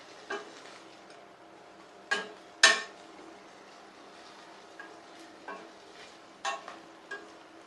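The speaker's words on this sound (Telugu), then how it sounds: "పెసరపప్పు కూడా వేగిపోయింది" Moong dal frying in ghee in a pan, with a spoon occasionally scraping and clinking against the metal in sparse, sharp strokes over a faint quiet sizzle.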